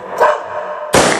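Dogs bark outside, one loud close bark followed by a second sharp burst a moment later, with a muffled background between them.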